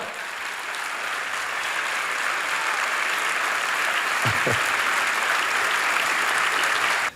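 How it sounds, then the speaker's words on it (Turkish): A film festival opening ceremony audience claps continuously, dense and even, holding at a strong level with no talk on top. "Evet, kocaman alkışlar."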